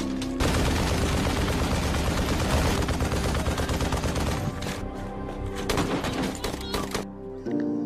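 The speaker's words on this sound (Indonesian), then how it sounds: "Mayor Jasim menyuruh anak buahnya terus menembak" Sustained gunfire from a battle scene in the war film Mosul, heard as a loud, dense stream of rapid shots and bursts that thins out toward the end.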